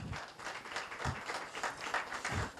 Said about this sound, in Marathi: जरा जोरदार टाळ्या वाजवत आहेत.